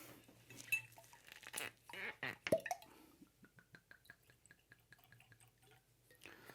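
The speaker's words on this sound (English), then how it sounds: "Hang on, let me pour this, and we'll see what he says first. I'll just pour both so I don't have to do that again later." Conviction bourbon, a cask strength and double oak pair, is poured into two glasses, with bottle clinks and glass taps, then a run of soft dripping trickles, close and quiet with no talk.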